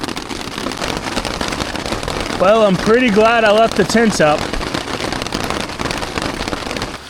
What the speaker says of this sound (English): Getting a little bit of rain.